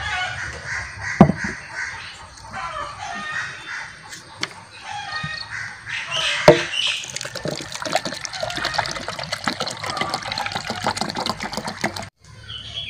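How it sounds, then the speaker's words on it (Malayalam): Water gurgles and splashes as it pours steadily out of a bottle, with a few sharp knocks and a crow cawing in the background. "ഇനി നമുക്ക് ഈ കുപ്പിയിലെ വെള്ളം മാറ്റാം"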